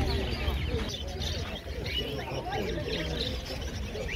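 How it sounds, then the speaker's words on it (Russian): Canaries, budgerigars and other small birds chirp and twitter continuously at an outdoor bird market, a dense busy chorus under steady crowd noise and nearby talk. "канарейки, попугайчики, разные птички"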